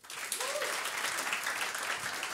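Comedy club audience at a live stand-up show clapping, dense steady applause that swells quickly and continues evenly, with faint voices mixed in.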